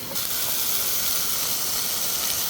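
Beef sizzling in a pan for a beef and mushroom stir-fry: a steady, bright hiss and crackle of frying that holds constant throughout, close and fairly loud with no talking.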